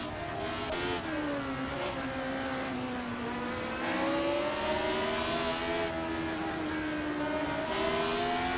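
Race car engines in a racing simulator video game, several high-pitched engines droning steadily with shifting revs as cars run close together, loud and continuous with no voices.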